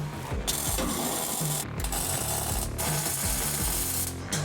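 A wrench ratchets repeatedly as nuts and washers come off the bed of an off-road truck under repair, a dense run of clicking over a steady background mechanical drone, close and continuous with brief pauses.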